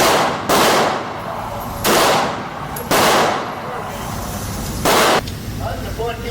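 A CZ 75D PCR 9mm pistol fires four loud, sharp shots at uneven intervals outdoors, each with a short ringing decay, with faint talk between shots.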